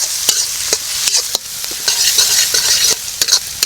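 Spices, garlic, ginger, green chillies, curry leaves and onion pieces frying and being stirred in a little oil in a village kitchen: a steady close sizzle with repeated sharp clicks and scrapes of a spoon against the pan.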